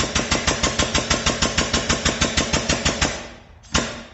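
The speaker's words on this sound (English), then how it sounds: "I had to wait for that little tiny air compressor" A very small air compressor running close and loud with a fast, steady chugging pulse that slows and trails off, followed by a brief hiss of released air.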